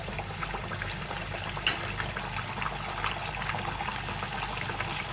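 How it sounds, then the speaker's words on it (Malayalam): Flattened Kannur-style ney pathiri goes into hot oil over a high flame and fries with a continuous, fairly quiet bubbling sizzle, steady throughout with no talking. "ഞാൻ അതിനകത്തോട്ട് പരത്തി വെച്ചിരിക്കുന്ന പത്തിരി ഇട്ട് കൊടുക്കുവാണ്"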